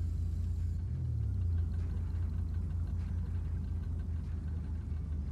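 A car engine in GTA V idles with a steady low rumble and a brief rising rev near the start, moderately loud and continuous with no talking.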